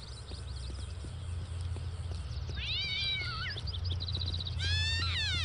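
In the video game Postal 2, a cat gives two drawn-out, wavering meows over a steady low game ambience with faint clip-clop hoof steps in the background.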